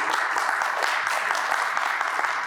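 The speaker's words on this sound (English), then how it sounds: "So big round of applause for all of you." An audience at an International Women's Day celebration with Hyatt ladies applauds steadily, a dense and even round of clapping that fills the whole stretch without talk.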